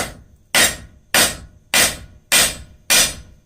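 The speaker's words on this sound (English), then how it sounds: "now we are going to lay it flat on the anvil and keep our hammer blow to the angle" Six heavy hammer blows strike hot steel on an anvil at an even, steady rhythm while tapering it, each a loud ringing clang with a short decay.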